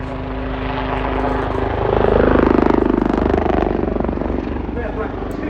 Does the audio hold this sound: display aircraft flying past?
yes